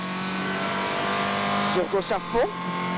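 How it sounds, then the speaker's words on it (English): A 300-horsepower Citroën rally car on a Bulgarian rally stage gives a steady engine drone, then a few quick rising revs in short bursts near the end, moderately loud. "the championship leader blasts his 300 brake horsepower machine into the Bulgarian countryside"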